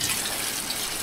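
A brief, steady rush of water is poured into a cooking pot holding sautéed papaya, heard close and loud with no break.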